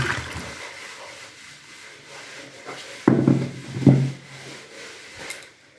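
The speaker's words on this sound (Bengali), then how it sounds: "সিদ্ধ করে নিয়েছি, এখন জলটা ঝরিয়ে নেব।" Water drains off a pot of boiled potatoes in a kitchen, with a close scrape and clunk of the pot, then two short gushing splashes and some dribbling, set against quiet background noise.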